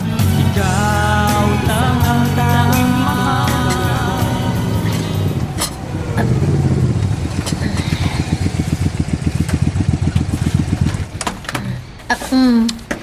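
A motorcycle engine runs through a family scene, with a steady engine drone and pulsing rumble as it pulls away, mixed under music and people talking.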